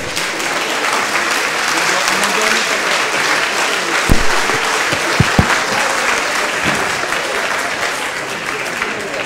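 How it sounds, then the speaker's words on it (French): An audience at an academic colloquium on cosmology applauds loudly and steadily, a dense wash of clapping that fills the room from start to finish, with a few sharper individual claps standing out near the middle. "Et je crois qu'on peut les applaudir."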